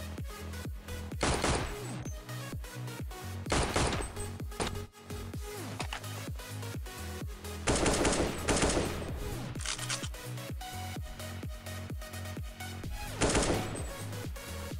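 Rapid bursts of automatic gunfire from Counter-Strike ring out in several volleys, loud and sharp, over a continuous background of game sound.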